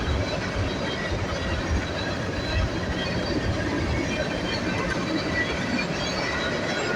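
A fast Norfolk Southern sand train rolls past close by, giving a loud, continuous broadband rumble of wheels and cars that holds steady throughout.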